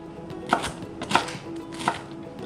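A knife chops through fresh Maui pineapple on a board, three distinct, evenly spaced cuts with soft thuds, close and clear against a quiet room.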